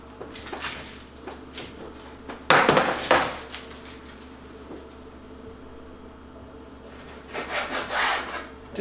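A knife slicing through a salmon fillet on a board while cutting citrus salmon portions: soft rubbing strokes, then a louder pair of cutting scrapes, a quieter stretch, and another burst of slicing near the end.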